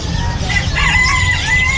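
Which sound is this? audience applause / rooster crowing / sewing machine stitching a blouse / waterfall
rooster crowing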